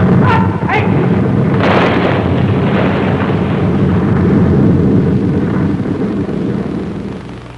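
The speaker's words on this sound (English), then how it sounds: "Beautiful explosion." A loud explosion sound effect from an old 1950s-era TV space adventure booms with a sharp initial blast and a long rumbling roar that slowly fades out.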